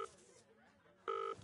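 Phone dialing to call someone's sister, with short electronic beeps at the start and a louder steady tone near the end, a muffled voice faintly underneath.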